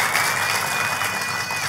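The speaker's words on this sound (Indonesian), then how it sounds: "Tepuk tangannya boleh yang paling meriah buat Tuhan kita" Brief burst of lively applause from a church congregation, dense continuous clapping with a faint high ringing tone beneath it.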